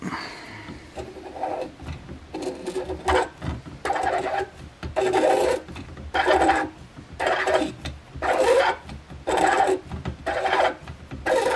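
A hand-turned peeling tool is rotated around a PE pipe for electrofusion welding, scraping the plastic surface in a steady run of rasping strokes, close and fairly loud, with short pauses between turns.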